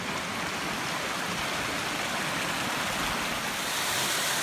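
Obsidian Falls, a waterfall on the Three Sisters Loop Trail, gives a steady, dense rush of falling water, loud and continuous throughout with no voices.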